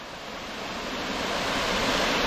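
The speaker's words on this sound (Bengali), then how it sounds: "বাহ, দারুণ দারুণ ফলস, ভালো জল আছে এখনো অবধি।" Ratmohana Falls near Ghatshila, a waterfall flowing, heard as a steady, loud, broadband rush of water that swells slightly and continues unbroken with no voices.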